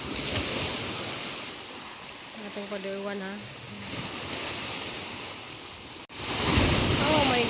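Sea waves wash steadily onto the shore near a flooded shop, a continuous broad surf hiss that swells again near the end while someone talks over it.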